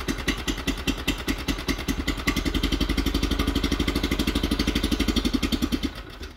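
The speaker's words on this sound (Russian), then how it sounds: "Так, и подсос оставляем и запускаем. Чуть-чуть газ открываем." A Neva walk-behind tractor engine starting in winter, sputtering into a fast rapid putter that runs steady and loud for several seconds before abruptly cutting out.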